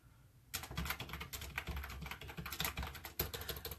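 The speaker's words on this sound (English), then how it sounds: "Can't ever talk and type at the same time." Rapid clatter of typing on a computer keyboard, steady and close after a brief quiet start, with uneven bursts of keystrokes and no talking.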